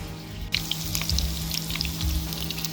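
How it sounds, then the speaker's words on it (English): A pan of sausages fries steadily, a continuous crackling sizzle with popping spatters up close under a low steady hum, with no voices. "So the last batch of sausages is done."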